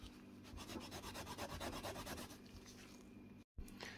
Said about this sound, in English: Just keep turning it and just keep rubbing fresh areas.